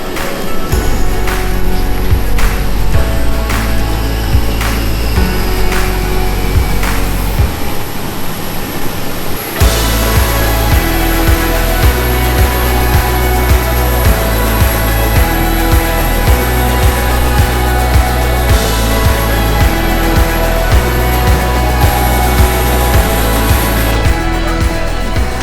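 Loud, continuous aircraft engine noise inside a plane landing at Mexico City Airport, with a steady roar and low hum, a brief dip in the middle, then droning on with rhythmic tonal bands to the end.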